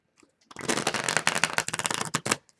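A deck of oracle cards is shuffled once in a quick, crisp riffle of papery flutters and snaps lasting about two seconds, close and alone.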